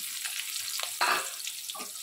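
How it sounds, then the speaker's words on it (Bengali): Soft, steady sizzling of chopped onions frying in oil until brown, with a few brief scraping or stirring touches and a louder burst near the middle. "পেঁয়াজটা আমি যতক্ষণ না বাদামি হয়, বাদামি কালারের হয়, ততক্ষণ অবধি ভাজবো।"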